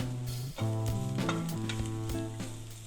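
Minced ginger and garlic sizzle steadily in hot oil in a pan, a dense continuous frying hiss that swells briefly with stirring, close and loud with no talk.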